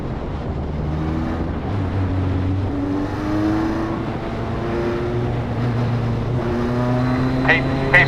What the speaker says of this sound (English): Pace car with the field in tow once again comes by, lights still on.